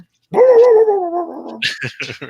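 Several dogs bark and whimper loudly in a home kitchen, a long strained whining yelp followed by a quick burst of sharp barks, with no one talking.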